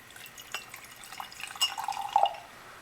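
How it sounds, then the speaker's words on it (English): A small amount of water is poured into a container of pure table salt, giving a brief close trickle and a few light drips and splashes against glass, quiet overall. "pour a little bit of water in there."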